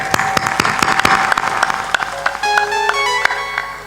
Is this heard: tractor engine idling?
no